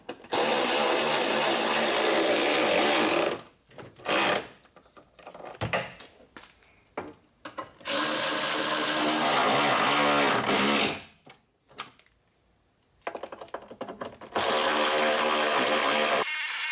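A power drill drives screws to tighten the step on a Mercedes Sprinter van, with several loud whirring bursts separated by short pauses and quiet handling noises, close up, with no talk.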